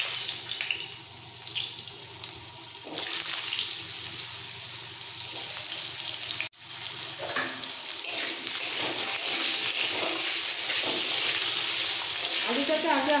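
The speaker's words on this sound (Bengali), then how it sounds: "তেলটা ভালোভাবে গরম হয়ে গেছে, দিয়ে দিচ্ছি আলু" Potatoes drop into hot oil in a wok and fry with a loud, steady sizzle and crackle, close up, joined by stirring and rising after a brief break midway.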